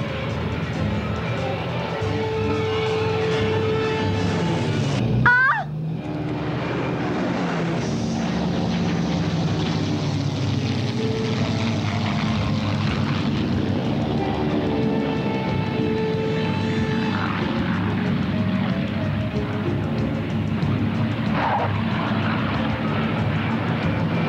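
Propeller airplane engine droning steadily and loud throughout a scene from a period comedy adventure, with a brief sharp disturbance near the start.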